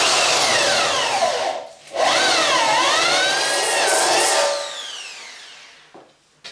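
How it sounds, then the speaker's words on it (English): A step drill bores into a punch mark on a part for a Kawasaki GT550 drop seat bobber build, a loud, close, steady whining grind with a brief dip in the middle and a fading finish. "So I'll just use a step drill for this in the punch mark."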